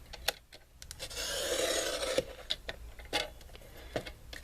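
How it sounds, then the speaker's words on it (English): A paper trimmer slides its blade along a card panel in one smooth, close rasp lasting about a second, framed by light taps and clicks of handling. "just take my trimmer and trim off a little bit of that extra space on that side"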